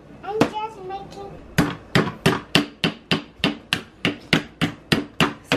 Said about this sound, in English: you can use like a pretend hammer and like goggles for him to crack it